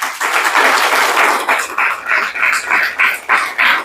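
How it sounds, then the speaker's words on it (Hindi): A seated training audience claps in rhythmic bursts, loud and close, swelling and easing in waves of applause with brief pauses between them. "तो अपने लिए तालियां हो जानी चाहिए।"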